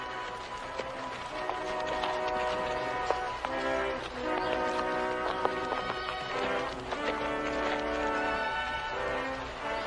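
Horse hooves clip-clop in a steady, busy rhythm alongside occasional whinnies, set against a dense musical background, with the horses sounding fairly close and moving at pace.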